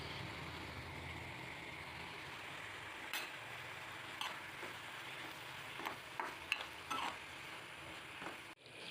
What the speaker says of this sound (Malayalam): അത് കഴിഞ്ഞിട്ട് വീണ്ടും നന്നായിട്ട് ഇളക്കുക